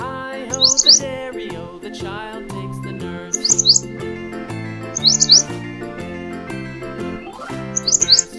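Short bulbul chirps pop out in four quick bursts, spaced evenly over a bouncy, cheerful musical tune.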